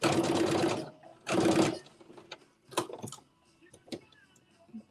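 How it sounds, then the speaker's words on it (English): A sewing machine stitching a vest runs in two loud, steady bursts, each about a second long, followed by softer clicks and handling noises nearby. "Oh, you're sewing a vest?"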